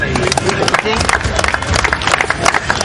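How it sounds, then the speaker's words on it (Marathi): An audience applauds prize winners at an awards event: a dense, steady burst of clapping lasting the whole moment, with a voice speaking over it. "आपण जोरात टाळ्या घेऊया"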